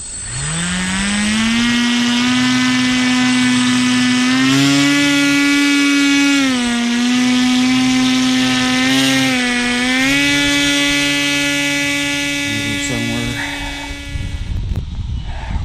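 A propeller-driven snow vehicle's motor runs loud and close for about fifteen seconds, a steady high buzzing drone that rises and dips in pitch as the throttle changes, then drops away near the end.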